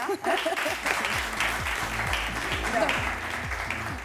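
An audience at a talk show applauds, a steady clatter of clapping beneath a voice that keeps talking throughout.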